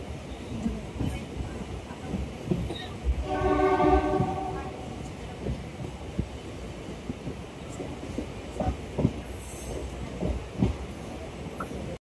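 A train rumbles along a railway line through green countryside, with steady rolling noise, a brief horn-like tonal blast near the start and scattered clicks and knocks.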